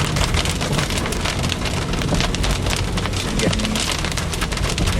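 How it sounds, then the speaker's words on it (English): Heavy rain pours down during a Florida thunderstorm, a dense, loud, unbroken hiss of drops drumming on surfaces that stays constant throughout. "The rain is still very heavy."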